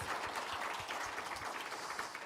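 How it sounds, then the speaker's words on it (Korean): Applause from a church congregation during a Sunday afternoon worship service, a steady wash of many hands clapping that stays fairly faint and even throughout, with no talking over it. "박수 한번 해주세요"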